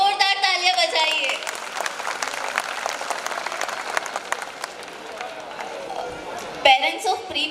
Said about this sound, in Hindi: अगर परफॉर्मेंस पसंद आई तो जोरदार तालियां बजाइए।